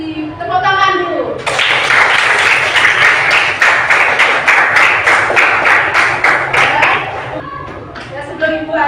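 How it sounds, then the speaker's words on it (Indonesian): A classroom of children bursts into applause, a dense burst of clapping lasting about six seconds, with a voice speaking before and after. "Tepuk tangan dulu."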